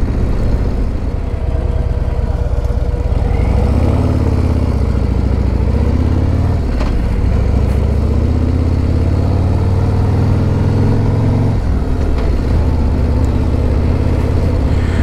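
A 2024 Harley-Davidson Road Glide on its stock exhaust rumbles close by, its low, throbbing engine note swelling in several rev blips before settling back to a steady growl.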